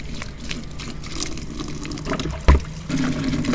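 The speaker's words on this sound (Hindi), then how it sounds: "तो सबसे पहले चने की दाल धुल रही हैं हमारी सासू अम्मा" Chana dal is rubbed and swished in a bowl of water, giving soft wet sloshing and trickling with a small splash partway through, close and moderately loud.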